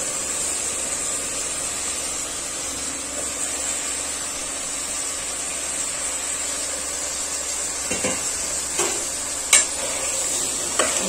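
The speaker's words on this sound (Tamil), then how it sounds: "கத்திரிக்காய் கூட நம்ம சேர்த்துட்டு நல்லா ஒரு வதக்க வதக்க வதக்கலாம்." Brinjal pieces being sautéed in a pan for a spicy Tamil kara kuzhambu, with a steady hiss of sizzling oil throughout and a few sharp scraping clicks of stirring near the end.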